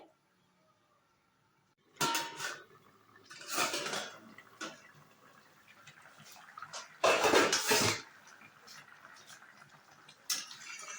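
Clattering of a pan and plate while hilsa fish in mustard is stirred and then covered, a few separate scraping and clanking bursts spread over quiet stretches.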